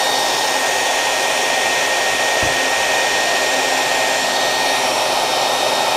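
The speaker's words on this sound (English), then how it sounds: "Oh, good time to test our ground fault plug on this dryer." A hair dryer runs on its highest setting, a loud, steady close-up blowing roar with a constant motor whine and a brief low thump partway through.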